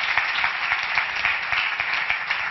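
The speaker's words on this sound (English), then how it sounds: "Can we have an applause for her?" Steady audience applause greeting a speaker at a veterinary-style lecture, a continuous wash of many hands clapping at moderate loudness, even and unbroken for the whole stretch with no talking.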